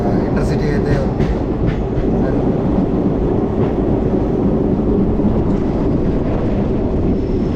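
A train passes right alongside on the line between Secunderabad and Sirpur Kagaznagar, a loud, continuous rumble with rhythmic clatter and rushing wind, unbroken throughout.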